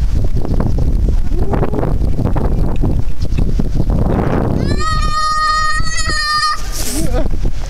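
Strong wind buffets the microphone outdoors near a small bridge by the crowded Ando museum, a steady loud roar throughout, with faint voices and a brief high tonal sound near the end.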